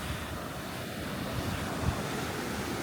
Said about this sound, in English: There's waves rolling in.